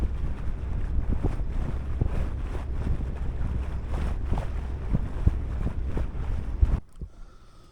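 A sailboat under headsail alone moving at about six knots, with steady wind buffeting and water rushing along the hull, a few sharper splashes, before the noise drops away near the end.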